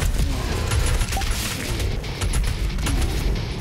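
Gunfire from a weapon in the shooter game Doom Eternal. Rapid, heavy shots pound almost without a break, loud and close, with booming low impacts and no voices.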